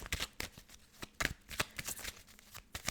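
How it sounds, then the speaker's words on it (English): Tarot cards are shuffled in quick riffling bursts, crisp flutters and taps repeating close by, with no talking. "So I'm just going to shuffle the deck first for you."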